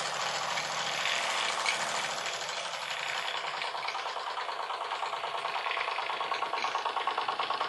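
A small steam engine under load chugs steadily at a fast, even rhythm, a continuous mechanical clatter with a bright hiss over it, no voices.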